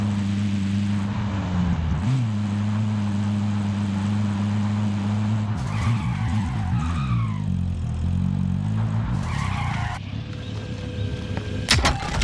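A car engine hums steadily in Call of Duty: Modern Warfare battle royale, shifting pitch as it drives on, with scattered clatter and bumps later.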